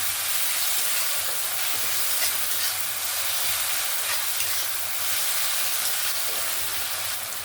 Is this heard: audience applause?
no